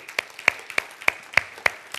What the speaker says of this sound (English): Let's give the Lord a clap and some of that.